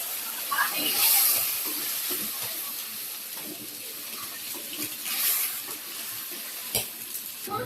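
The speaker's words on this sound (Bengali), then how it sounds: "মশলা কষানো শেষ, এখন পানি দিয়ে দিব।" Water is poured into a pot of fried-down spices while cooking meat, fish and eggs, giving a steady splashing hiss with a few sharper clinks from the pot.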